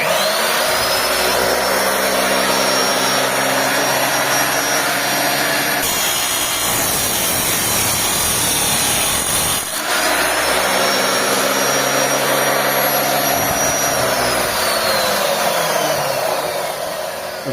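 A power tool motor roars loudly and continuously, with a high whine on top and a brief dip in pitch midway.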